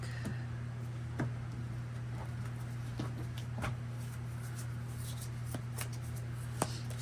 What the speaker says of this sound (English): go ahead and cut the deck.